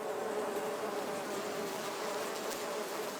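Honeybees buzz at a hive in the Bay of Fundy region, a dense, steady drone of many wings that holds close and even for the whole span, with no voices.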